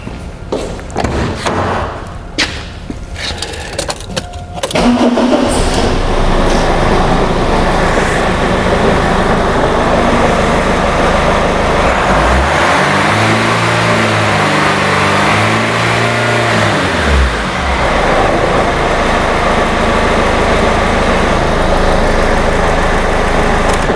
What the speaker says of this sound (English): and start the engine.